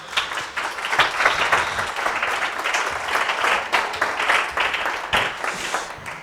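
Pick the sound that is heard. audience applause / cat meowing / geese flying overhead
audience applause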